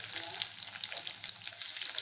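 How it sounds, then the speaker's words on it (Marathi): Medium onions fry in half a spoon of hot oil in a kadai, giving a soft, continuous close crackle and sizzle with faint scattered pops, no talking. "ऑइल आता गरम झालंय तर मी त्यामध्ये टाकणार आहे"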